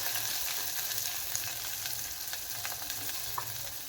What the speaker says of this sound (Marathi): ब्राऊन होईपर्यंत आपण ह्याला हलवायचं आहे।